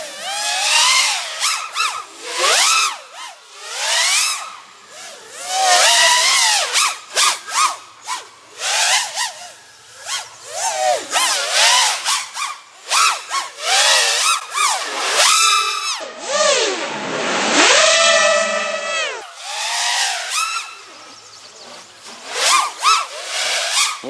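A racing drone fitted with Gemfan Flash 5149 propellers flies in repeated high-speed passes, its high-pitched motors whining up and down sharply, loud near passes alternating with quieter gaps.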